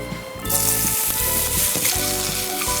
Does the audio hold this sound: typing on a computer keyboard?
no